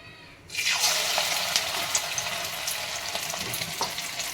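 Bengali fritters dropped into oil on a low flame burst into a sudden sizzle after a brief quiet moment, settling into a steady close bubbling fry with small crackles, without any talking.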